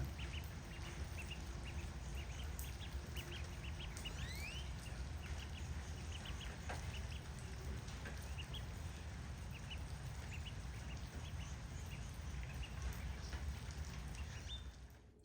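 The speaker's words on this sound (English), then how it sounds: "Those are our ducks enjoying the rain for the first time" Ducks quack repeatedly in short bursts while a steady rain patters around them, the whole scene fairly quiet and free of talk.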